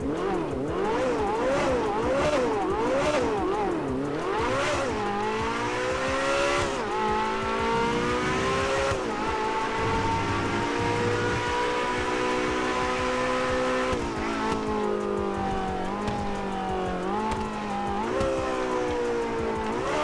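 A modded car engine in GTA 5 revs and roars through gear changes, its pitch sweeping up and down repeatedly as the car accelerates along the road, loud and continuous with no talk.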